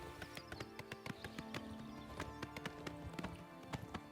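Horse hooves clip-clop steadily in the video game Oblivion as a rider gallops along, a quick, even rhythm of fairly faint hoofbeats with no talk over them.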